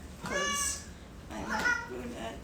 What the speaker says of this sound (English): If you hear that meow, that was my cat who likes to eat cookies.